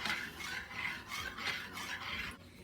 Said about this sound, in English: Going to stir those in a little bit.